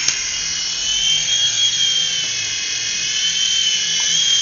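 HG08 remote control helicopter lifting off, its small rotor and motor giving a steady, loud, high-pitched whine that holds throughout with slight wavering, no talking.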